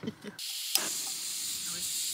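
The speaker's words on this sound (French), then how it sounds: "Le réchaud, bien sûr." A camping stove hisses steadily on a table during a hike, a continuous close rush of gas flame after a brief pause, with a voice speaking just before it starts.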